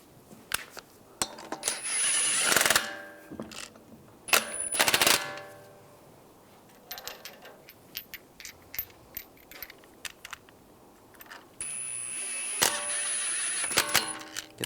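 Lug bolts are turned onto a Dodge Dart wheel with sharp metallic clicks, ratcheting rattles and clinks. They come in irregular close bursts, with a longer steady ratchet run near the end.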